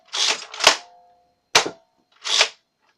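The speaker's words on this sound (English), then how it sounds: "once that is in, you just pull the trigger, and it shoots about 60 feet" A Boomco Halo Needler toy blaster firing darts, giving sharp, loud, close pops in a few separate bursts with short silences between.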